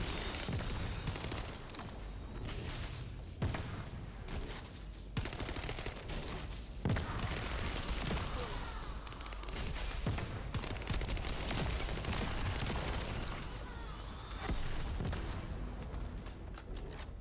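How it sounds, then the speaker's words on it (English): Repeated grenade explosions in the shooter video game The First Descendant, a dense, loud run of booming blasts and gunfire-like bursts stacking one on another for the whole stretch with no pauses. "Grenade spam."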